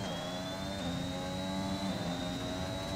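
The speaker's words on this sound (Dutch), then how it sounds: "De Honda motor is powervol." Honda V6 hybrid engine of a Formula 1 car at full throttle near top speed with DRS open in F1 2021, a loud steady high-pitched scream with a slowly rising whine, continuous for three seconds.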